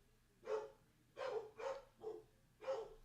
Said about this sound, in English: See, my dogs are barking.